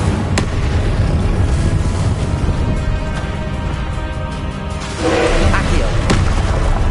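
A burst of fiery spellcasting in the Hogwarts Legacy video game, the Incendio fire spell flaring with a sharp whoosh and booming crackle amid a dense, loud duel of other blasts and game effects.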